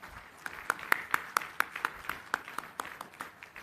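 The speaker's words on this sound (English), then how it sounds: "Can we have a big round of applause, please?" A small scattering of applause at a university convocation ceremony for Guru Gobind Singh Indraprastha University, made up of sparse, distinct hand claps in an uneven rhythm, fairly quiet and heard over a faint room background.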